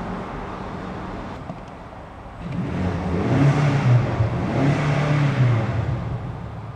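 BMW XM engine revving while driving through a short tunnel, a muted drone swelling into two rising, reverberant rev pulls over steady road rumble.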